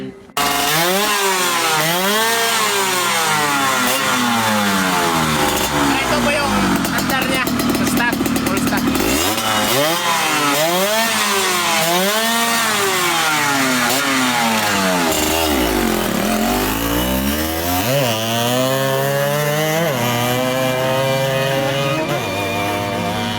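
A Yamaha RXT motorcycle with a ported carburetor and aftermarket exhaust revs hard up close, its loud engine note climbing and falling through repeated throttle blips without pause.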